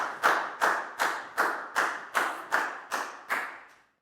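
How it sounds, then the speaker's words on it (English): A classroom of students applauds a classmate named Net after a Year 4 social studies activity on water pollution, giving about nine evenly spaced, fairly loud group claps in a steady rhythm. "High five and a big round of applause for Net"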